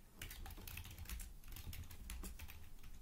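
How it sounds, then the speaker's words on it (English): Keys pressed on a TI-nspire CAS-CX graphing calculator keypad to enter a number, a run of close, fairly soft clicks and taps over three seconds with no talking. "type the number"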